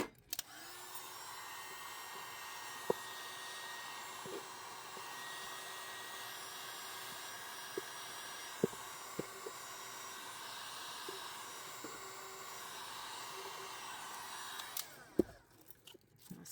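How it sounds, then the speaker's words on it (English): A heat tool warming glue on a wooden charcuterie board, blowing in a steady, close whoosh for about fifteen seconds with scattered small clicks and taps, then switching off. "But I do need to heat up this glue around here right quick."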